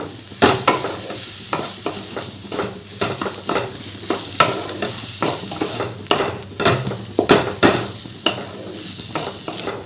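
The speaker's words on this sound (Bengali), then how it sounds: "এবার সব কিছু ভালো করে মিশিয়ে নেব" Spices, salt and a little sugar are stirred and mixed in a frying pan over a background sizzle, with loud, rhythmic scrapes and knocks of a spoon against the pan coming in quick bursts, no speech.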